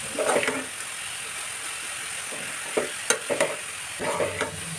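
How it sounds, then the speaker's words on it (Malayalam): Papaya sautés in a pan on a medium-heat stove, a soft sizzle running throughout under scattered scrapes and stirring strokes of a spoon, with no talking. "സ്റ്റവ് മീഡിയത്തിൽ വെച്ചിട്ട് 2 മിനിറ്റ് പപ്പായ ഇങ്ങനെ വഴറ്റിക്കൊണ്ടിരിക്കുക."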